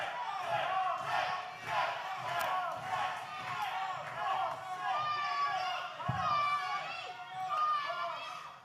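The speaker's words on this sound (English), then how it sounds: "Listen to this crowd." A live wrestling crowd roars and chants continuously at a steady, moderately distant level, with a commentator talking over the noise throughout.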